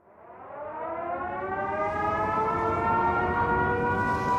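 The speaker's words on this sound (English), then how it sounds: "all of a sudden I heard the siren go off." A civil defense siren sounds a tornado warning in Joplin, its loud wail rising in pitch and then holding steady and close for several seconds, with no voices over it.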